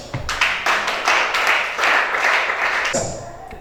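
A church congregation applauding to acclaim Shaddai during a service, loud close rhythmic clapping from many hands that swells, holds for a few seconds and then tapers off.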